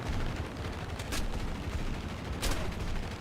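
Gunfire in a War Thunder air battle, a P-63 firing on a P-47 Thunderbolt: steady, dense rumble of aircraft guns under engine drone, with two brighter bursts standing out briefly.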